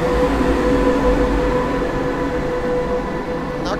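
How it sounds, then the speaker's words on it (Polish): A train locomotive at Warsaw Powiśle station in 2023 produces a loud, close, continuous rumble with a steady droning hum throughout. "Bardzo ładna lokomotywa."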